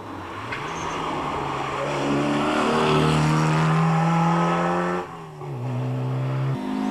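A 1950 Allard J2 with a 5.5-litre Cadillac engine at the Targa rally, a loud, deep engine roaring through rising gears, a brief dip at a shift, then pulling hard again, close and continuous.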